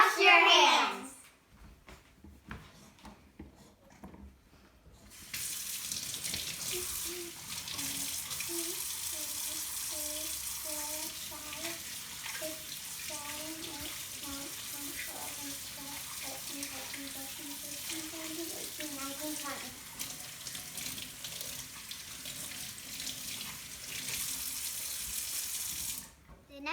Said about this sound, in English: The first thing you have to do is wash your hands.